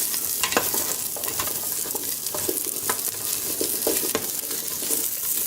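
Sliced salami (salchichon) sizzles steadily in a pot, a constant hiss of frying oil broken by repeated scraping clicks of a spoon stirring, close and loud with no voices.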